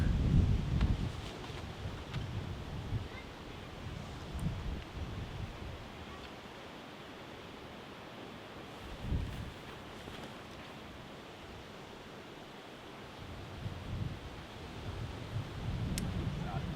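Gusty, swirling wind buffets the microphone at the Meri-Toppila DiscGolfPark course in Oulu during a tournament final round. Low rumbling surges rise and fall in waves over a steady background rush, with no voices.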